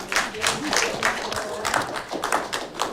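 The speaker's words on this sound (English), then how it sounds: "Clap for her." An audience at a live TV reality show hosting contest breaks into rhythmic clapping, a loud, fairly steady run of hand claps from a small crowd lasting several seconds.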